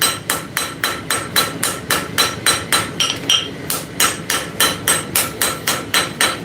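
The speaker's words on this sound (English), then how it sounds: "Just over here forging with my little bitty old baby hammer." Small hammer forging hot metal, a steady run of about twenty sharp ringing blows at an even rhythm, loud and close, with no talking.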